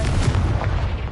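A booming blast from the Confringo fire spell in a Harry Potter video game, one short, dense, full-bodied burst that fills the moment with no voice over it.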